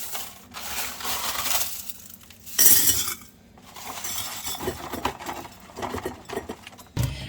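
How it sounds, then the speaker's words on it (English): Dehydrated caramelized onions being pried off dehydrator sheets and broken up: brittle crackling, snapping and clinking, close and intermittent, with one sharper burst of crunching partway through and no voices. "I'm just going to pry these off my sheets. And I can break them up a little bit more"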